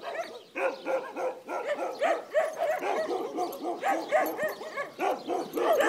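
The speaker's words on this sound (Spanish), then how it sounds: "aquí el otro montón de perros" A pack of dogs in Salamanca, Guanajuato barks continuously in overlapping yips and bow-wows, some whimpering, moderately close.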